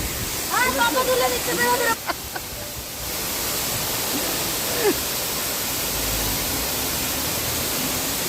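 A waterfall along the road from Bhalukpong to Bomdila roars in a loud, steady rush of falling water, with a few brief voices near the start before the torrent fills the rest.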